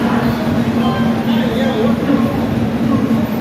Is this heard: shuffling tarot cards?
no